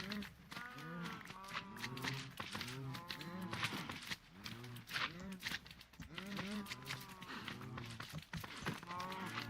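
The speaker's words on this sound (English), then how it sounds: "Wow, there's so many cows in here." Many cattle in a survival video game, a flat-world farm crowded with cows, moo repeatedly and overlap throughout, a dense, steady chorus of lowing calls with no talking.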